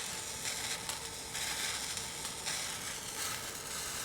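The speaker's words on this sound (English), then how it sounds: "by letting it boil for a bit, you can also reduce it and make it thicker and slightly more syrupy" Spare rib juices boil and reduce in a pan toward a thicker, syrupy glaze, giving a steady close sizzling bubble with slight surges, heard alone without talk.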